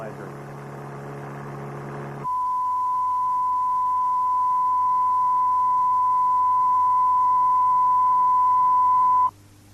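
Steady pure test tone, loud and unwavering for about seven seconds, preceded by a short stretch of a lower layered hum, used to train the ear to recognise frequencies while diagnosing car noise and vibration.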